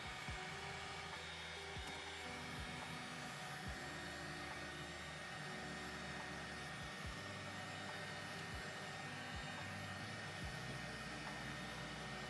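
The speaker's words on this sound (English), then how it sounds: "That's definitely way higher powered blower." High-powered blower fan on a Big Green Egg grill, a steady, even, close whooshing drone that holds unchanged throughout, with faint soft knocks underneath.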